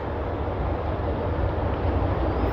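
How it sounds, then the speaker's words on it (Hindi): A lone railway locomotive engine running without carriages, a steady broadband rumble with deep low-end throb, continuous and fairly loud, as if near or approaching. "ये एक इंजन आ रहा है"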